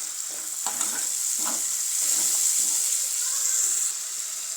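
Crushed cumin and coriander sautéing in a hot pan for a dhaba-style home-cooked dish, a steady close sizzle with a few stirring scrapes, no voices.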